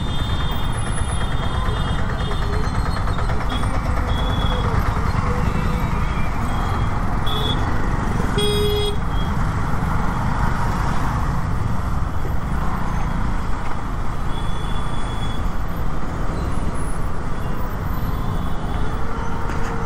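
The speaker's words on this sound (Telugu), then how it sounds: "ఎంత ట్రాఫిక్ ఉందో అర్థం చేసుకోండి." Heavy road traffic surrounds a Duke 200 motorcycle on the road, a loud continuous rumble of engines and wind with occasional horn beeps cutting through.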